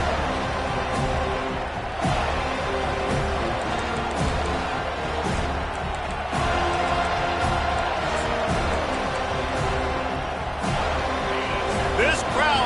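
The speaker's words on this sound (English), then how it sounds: "This crowd trying to show them what it's going to be like all day in this house" In the College Football 25 video game, a stadium crowd roars in a continuous loud wash with scattered thumps, under steady commentary.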